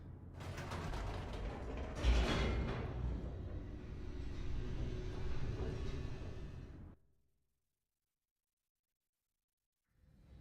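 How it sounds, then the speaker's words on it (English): Elevator descending in The Stanley Parable: a steady mechanical rumble with creaks and ratcheting for about seven seconds, a heavy clunk near the two-second mark, then sudden silence before a faint return at the end. "The elevator raced downward, plummeting towards an unknown fate."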